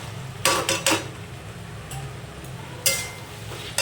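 Boiled potatoes and peas are stirred in a pan with goat fat for ghugni, giving sharp metallic spoon scrapes and clinks in quick clusters over a low background hum.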